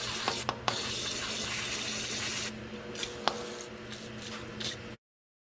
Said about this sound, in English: just going to use some good old handy dandy brake clean